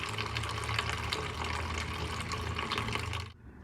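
Water drains steadily from the carbonator line of a soda machine as a constant close rushing hiss, then stops abruptly near the end.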